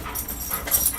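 A young pet dog, a pup, gives soft close whimpers and small yips in short bursts, with faint breathy pants between them and no talking.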